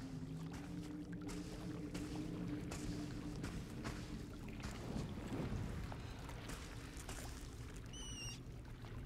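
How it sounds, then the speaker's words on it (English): Underground harbour ambience from the video game Hogwarts Legacy: a steady low hum and lapping water wash with faint wind, plus a soft chiming shimmer near the end, no talk. "So this is the underground harbour."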